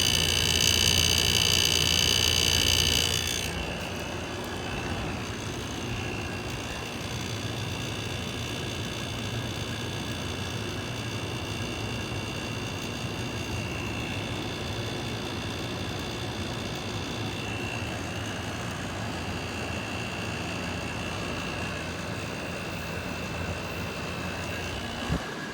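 Air conditioner unit at a vacation house, old and worn, running with a steady loud mechanical hum and whir, a brief higher-pitched whine at the start before settling into a constant drone.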